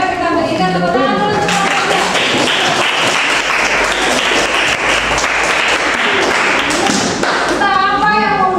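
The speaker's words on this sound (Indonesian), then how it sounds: "Kita berikan tepuk tangan dulu." A classroom of students claps together for a group that has just presented, loud, dense and continuous applause close to the microphone, with talking heard before and after.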